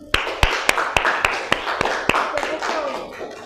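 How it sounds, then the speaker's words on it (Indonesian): A classroom of Indonesian middle-school students claps in a short, sharp burst, about eight distinct loud claps in a quick rhythm before trailing off into murmur. "Oke, tepuk tangan."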